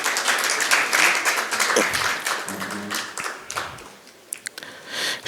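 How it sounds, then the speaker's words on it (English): Audience applause at a panel discussion on regulatory reforms, REITs and asset tokenisation, a steady crowd clapping that fades toward the end, with a brief low hum partway through and a few scattered claps afterward. "A round of applause."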